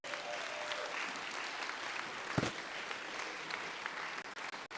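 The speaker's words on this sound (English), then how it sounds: "so give yourself a round of applause" A room full of people clapping steadily at a library groundbreaking, a dense, continuous round of applause that holds for several seconds, with one louder thump partway through.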